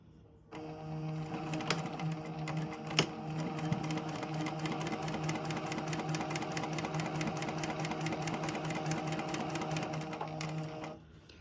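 A sewing machine stitching a fabric seam runs in one steady, fast mechanical whir for about ten seconds, close and even, starting and stopping abruptly, with no talking.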